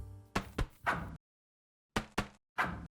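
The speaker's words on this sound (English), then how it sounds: "sound when you score a basket," A video game basket-scoring sound effect: two bursts of sharp knocking thuds separated by a pause of silence, each a quick pair of hits followed by a heavier thump.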